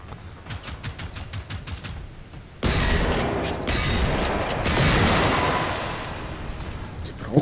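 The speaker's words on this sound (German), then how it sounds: "Da wird geschossen." Gunfire rings out in Generation Zero, first as a string of rapid sharp cracks under game ambience, then as a louder, dense roar of shots and blasts that keeps going for several seconds.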